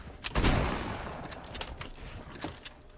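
Several loud gunshots ring out in a squad-mode shooter video game, the first a heavy blast followed by a rapid scattered series of sharper shots with fading echoes.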